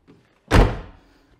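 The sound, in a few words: Hillman Imp car window being shut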